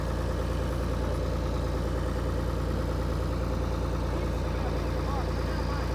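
A farm tractor runs steadily while powering a bean threshing machine on a rural plot, its deep continuous engine drone holding near and loud throughout, with a slight rise as the throttle is opened.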